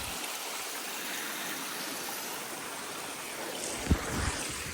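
A stream flows beside the Appalachian Trail, a soft, steady wash of running water close by, with one brief thump near the end.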